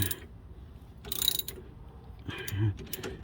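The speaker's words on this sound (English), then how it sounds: "now I'm on the verge of tightening" A ratchet tightens nuts on a 2008 Ford F350 super duty dually steering stabilizer, with two short bursts of quick mechanical clicking separated by quieter pauses and low background noise.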